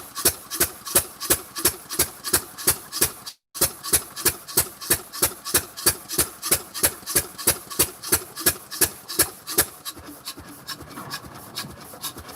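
A water well pump runs after being engaged, making loud, evenly spaced rasping strokes, about two or three per second, with one brief gap early on and a rougher patch near the end.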